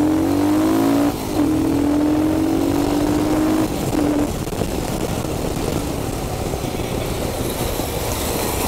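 A Royal Enfield Himalayan BS6 adventure motorcycle accelerates hard at speed, its engine note climbing in steady rising sweeps over loud, constant wind and road roar.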